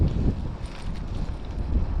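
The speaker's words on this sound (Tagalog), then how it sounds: "malakas ang hangin" Strong wind buffets the microphone with a heavy, continuous low rumble and gusty surges.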